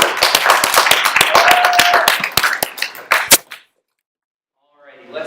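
Scattered hand claps from a small audience welcoming a speaker at a programming club meeting, sharp, uneven claps that thin out and stop after about three seconds, followed by silence and then faint speech.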